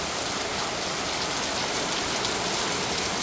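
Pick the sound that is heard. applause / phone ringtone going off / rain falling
rain falling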